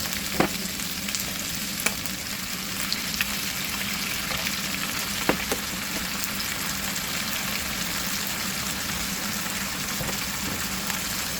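Pork cubes for adobo fry in a pan with continuous crackling sizzle, scattered sharp pops and occasional stirring scrapes, close and steady throughout.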